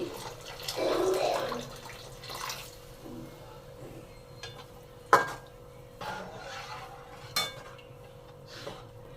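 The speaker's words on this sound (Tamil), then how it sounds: "இப்போ வந்து தண்ணி ஊற்றி" Water is poured into a pan of South Indian ball gravy (urundai kuzhambu) while cooking: a short, soft splash near the start, then scattered light clinks of kitchenware in a quiet room.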